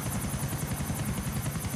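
Steady rotor chop of a helicopter in GTA IV The Lost and Damned, a continuous fast thudding beat with a whining high layer, loud and close throughout with no talking.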